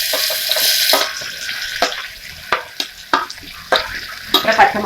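Onion frying in heated oil and butter in a pan, a steady close sizzle with repeated stirring scrapes and clatters throughout.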